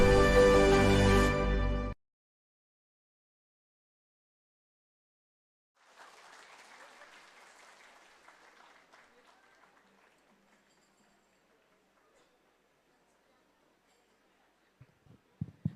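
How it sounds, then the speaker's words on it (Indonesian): An audience applauds Dr. Gamal Albinsaid at a speaking event: a voice speaks briefly and cuts off, silence follows, then soft, distant clapping swells and thins out over several seconds. "beri aplaus yang meriah untuk Dr. Gamal Albin Said MBiomed"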